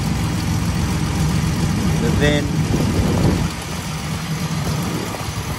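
A 1977 Datsun 280Z with a Holley carburetor, NGK spark plugs and a 2.5-inch header exhaust idles smoothly, a close, even low rumble running beneath someone talking throughout.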